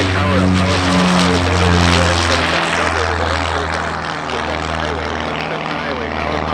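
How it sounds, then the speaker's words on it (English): A Cessna airplane powers up over the runway at an airshow, its propeller engine droning loudly and steadily throughout with a rising, throbbing tone, while a voice talks over it. "So I got the Cessna over the runway. Power up, power, power, power."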